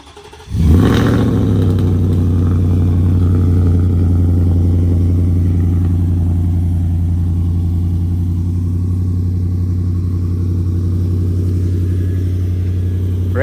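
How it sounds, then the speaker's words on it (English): A Can-Am X3 side-by-side engine cranks and catches on a cold start, revs briefly, then settles into a loud, steady, close-up idle with a deep rumbling drone that holds for over ten seconds. "First, we got to get a good cold start."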